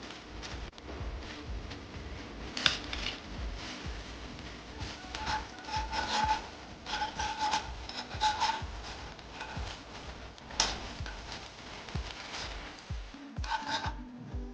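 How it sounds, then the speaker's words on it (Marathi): Semolina is roasted in ghee in a pan and stirred with a spoon, giving soft, faint scraping and rubbing strokes that repeat unevenly throughout. "हा रवा आपण या तुपात भाजून घ्यायचा आहे छानपैकी."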